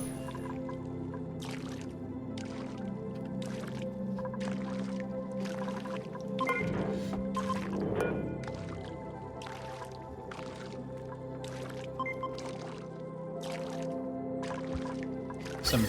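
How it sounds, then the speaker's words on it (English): Water being pumped in Oxygen Not Included: a regular series of soft watery gurgling pulses repeats about once a second over a steady low hum, moderately quiet throughout. "This is still pumping a lot of water out."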